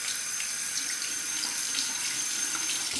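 A razor is rinsed under a running bathroom tap, water streaming steadily and close into the sink for a few seconds with no voices.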